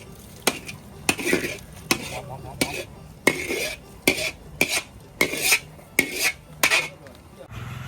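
A utensil clanks and scrapes against a large metal pot while stir-frying canned pork for war evacuees, a steady stirring rhythm of about a dozen sharp knocks over a soft background sizzle.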